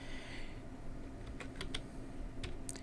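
Someone types on a computer keyboard at a workstation, a short run of separate key clicks, close and fairly quiet, with no talking.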